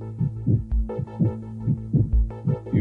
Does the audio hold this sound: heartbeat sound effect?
yes